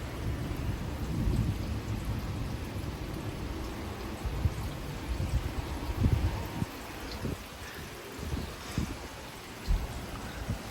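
Strong thunderstorm with 30 mph wind gusts in Frisco, Texas: steady heavy rain hisses throughout while deep thunder rumbles roll in and out, with gusty low bursts of wind.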